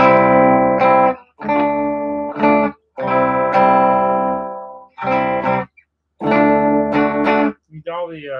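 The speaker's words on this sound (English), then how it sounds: "this is the bridge humbucker in like basically on 10, going through the AC30" Electric guitar on its bridge humbucker with the volume near full, played through a Vox AC30 amp: a series of sustained, harmonically rich chords in bursts separated by short silences, ending with a brief wavering tone.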